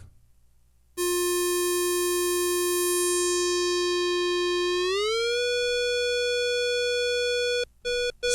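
A steady, buzzy Electribe 2 synthesizer tone holds one pitch, then glides smoothly upward as it is tuned up to a higher note and sustains before cutting off.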